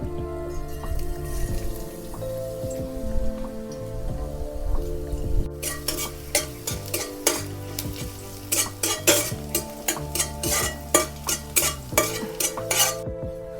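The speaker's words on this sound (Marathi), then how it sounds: "तेल पण तापलंय आता लसूण टाकून घेते" Garlic sautés in hot oil for a wild leafy vegetable dish, a steady sizzle that turns into a run of rapid, repeated metal spatula scrapes and clinks against the pan, loud and close with a constant low hum beneath.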